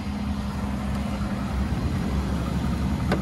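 A Jeep Liberty's engine idles steadily at a junkyard, with a low, even rumble that holds without change and has no voices over it.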